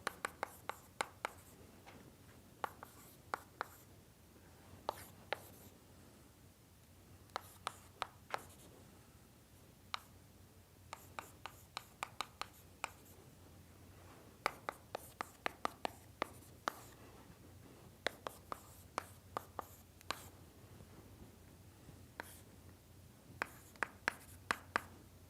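A lecturer writes on a board in a university class on numerical methods, giving faint scratching strokes and frequent sharp taps in irregular bursts across a quiet room.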